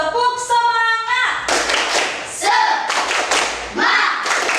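Schoolchildren in a classroom perform a rhythmic spirit clap, loud patterned bursts of hand claps with chanting voices between them, after an opening sung cue.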